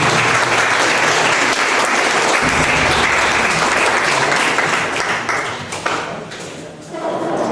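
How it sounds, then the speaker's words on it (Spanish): A big round of applause from a conference audience in Ica, Peru, welcoming a speaker on stage: loud, dense clapping that holds steady, then thins and dips near the end with some voices mixed in. "recibamos un gran aplauso"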